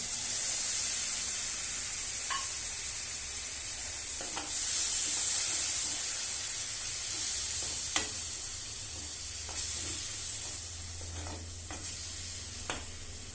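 Ground coconut is stirred into chili powder masala frying for an okra dish, giving a steady soft sizzle with occasional sharp spoon scrapes and clicks against the pan, close and fairly quiet.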